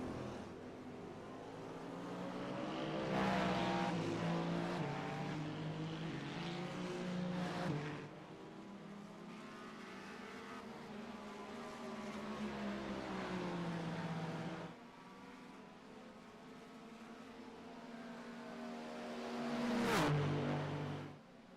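GTP prototype race cars lap Daytona International Speedway in an IMSA racing sim, engines droning steadily at close range with rising and falling pitch as cars pass, one sharp high whine flaring near the end.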